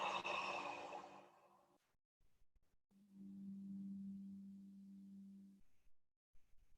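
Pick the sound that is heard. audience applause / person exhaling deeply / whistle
person exhaling deeply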